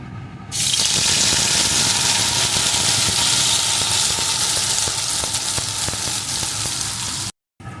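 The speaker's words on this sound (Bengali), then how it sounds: "এখন ওই বেটে রাখা পোস্তটা এর ভিতরে ঢেলে দেব।" Poppy seed paste dropped into hot mustard oil bursts into a loud, dense sizzle that holds steady for several seconds before cutting off abruptly.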